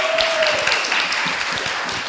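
An audience at a festival open mic session applauds steadily, a dense wash of clapping from a crowd that holds at an even level the whole time.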